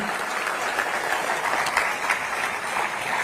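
Audience applause at a police cyber-awareness campaign launch event, a sustained, even patter of many hands clapping from a sizable crowd, moderately loud with no voices on top.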